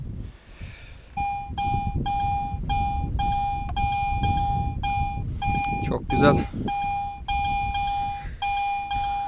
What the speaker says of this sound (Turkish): Renkli bir sinyal. Karetin bu sesini duymaya bayılıyorum.